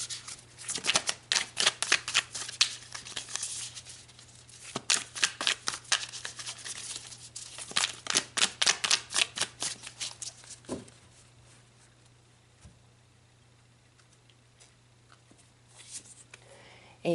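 Tarot cards being shuffled in quick, crisp riffling bursts, then slapped and pulled one by one, close and clear over a steady low hum, with long quiet pauses toward the end.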